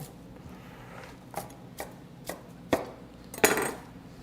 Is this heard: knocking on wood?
no